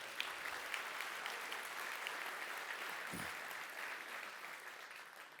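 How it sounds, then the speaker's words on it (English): Crowd applause fills a theatre at the Birmingham AI 2026 kickoff at Red Mountain Theatre, a dense, even wash of clapping heard from some distance that holds steady throughout and tapers slightly at the end. "Let's give them a round of applause as well."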